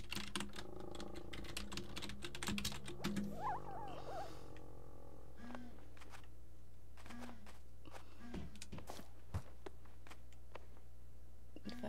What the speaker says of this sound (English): Oh my gosh, if I can type right.